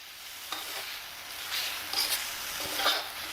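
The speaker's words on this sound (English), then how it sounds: "So now we're gonna go ahead and add our scrambled eggs here as well." Scrambled eggs stirred and sizzling on a hot grill, a soft continuous frying hiss with a few scraping stir strokes, close and moderately loud, with no talking.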